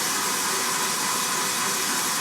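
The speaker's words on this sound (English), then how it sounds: "Put that in your stand mixer, fit it with the whisk attachment," Stand mixer with a whisk attachment beating eggs for peppermint triple chocolate brownies, a steady whirring hiss that holds constant and fairly close throughout, with no talking.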